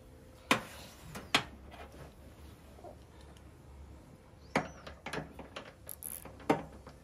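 A suspension part being wobbled off an Asko washing machine during repair gives sharp metallic clicks and knocks, a few isolated near ones among quieter rattling handling noises.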